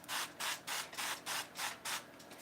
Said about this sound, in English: Use that baking spray.